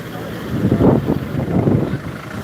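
Strong wind gusts at Jatayu Earth's Center buffet the microphone in low, rumbling bursts that swell and fade over a couple of seconds, loud and close.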